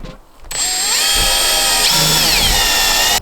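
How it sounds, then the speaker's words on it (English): A power drill bores holes for a MaxxFan roof fan in a camper van conversion. It starts after a brief quiet moment and whines loudly and steadily, with its pitch shifting as it bites and loads. "Now the holes are drilled in"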